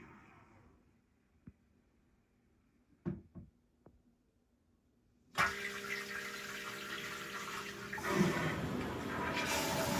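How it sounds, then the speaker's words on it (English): A HOROW T38 smart toilet gives a few faint clicks as its lid shuts, then a loud, rushing flush swells and runs on to the end. "press it one more time and it'll shut the lid and flush"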